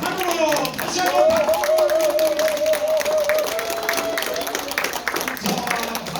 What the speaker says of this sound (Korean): 감사와 환호로 다시 한번 박수 올려드리겠습니다